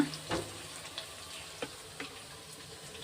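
Chhana balls for a vegetarian dalna frying in oil, a faint, soft sizzle with a few light utensil taps, quiet and close.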